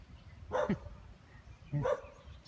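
Two short barks from a dog at moderate distance, about a second apart, with quiet background between them.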